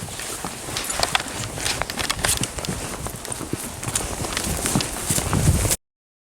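Several horses on a long trail ride clip-clop steadily along at a walk, their hoofbeats near and continuous under outdoor noise, ending abruptly.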